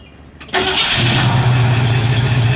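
A 1966 Ford Mustang coupe engine cranks briefly, then catches and settles into a loud, steady idle, close by and with no talking.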